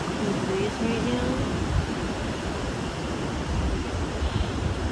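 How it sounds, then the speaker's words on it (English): Gentle ocean waves wash over wet sand on a beach at sunset, forming a steady soft surf hiss mixed with breezy wind noise on the microphone, with faint tonal sounds briefly audible early on. "The gentle waves. Nice cool breeze right now."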